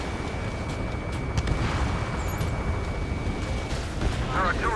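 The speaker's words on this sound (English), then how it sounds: "Our artillery fire just missed us off our starboard side" Rumbling artillery blasts burst nearby in the combat flight game Ace Combat 7, a dense continuous roar of explosions with sharper pops near the end, loud and close, with voices heard in between.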